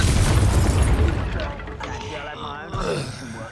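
A fire-spell explosion in the video game Hogwarts Legacy: a deep, loud boom opens the moment and rolls into crackling, rumbling fiery burst noise that fades over a few seconds, with a voice speaking faintly underneath.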